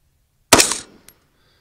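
A single sharp, loud .223 rifle shot fired at a target 990 yards away, heard close, with a quick decaying report and a faint distant tick a moment later.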